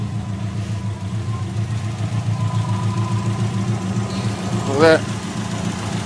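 A Subaru STI with a version 6 motor, in a rebuilt V2 body on its first tune, idles with a steady low rumble, then gives a brief rev near the end while people talk over it.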